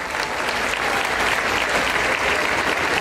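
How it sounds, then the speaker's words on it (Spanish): An audience at a senior citizens' day celebration in Atotonilco applauds loudly and steadily, dense clapping filling the whole stretch with faint crowd murmur. "También vamos a darle un fuerte aplauso"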